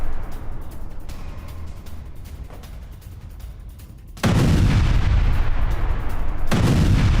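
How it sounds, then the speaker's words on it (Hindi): A missile strikes a building in Tel Aviv, caught on a car dashcam: a low rumble gives way to a sudden loud blast partway through, followed by a sustained roaring boom and a second surge near the end. "तेल अवीव में बिल्डिंग पर गिरी मिसाइल।"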